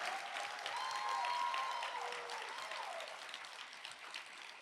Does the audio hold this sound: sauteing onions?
no